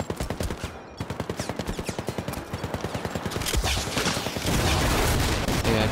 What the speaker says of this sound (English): I think we're going to be required to use this gun here.